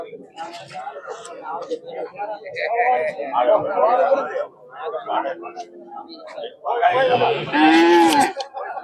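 Dairy cows mooing loudly and close by at a cattle market, several long lowing calls, with people talking over and between them.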